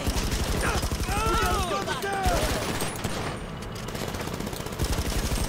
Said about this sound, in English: Little service rifle action here.